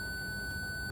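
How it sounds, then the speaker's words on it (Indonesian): An Arduino buzzer acting as a smoke alarm in a smart building security system holds one steady, shrill electronic tone, continuous and fairly loud for about a second. "Pertama, buzzer akan berbunyi"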